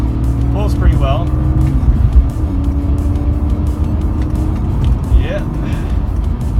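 A high-mileage BMW car accelerates onto a highway, its engine drone and road rumble steady and close throughout, with brief squeaky interior noises over the top.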